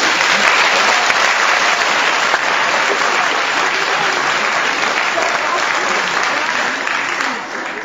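Audience at the 61st choral singing contest at Théâtre Sinne in Mulhouse applauds, a dense, sustained wash of many hands clapping at full volume, tapering slightly at the end.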